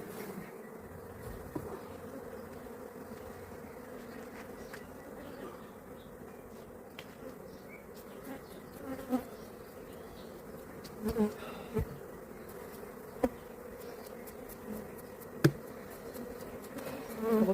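Honeybees swarm and buzz around an opened hive on a hot day: a steady, dense drone close by with occasional faint clicks and knocks from the frames.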